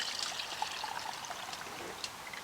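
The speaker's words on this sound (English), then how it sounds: "pour the juice right in here" Beef riblet juice poured into a pan, a steady close trickling stream running throughout with faint splashy detail.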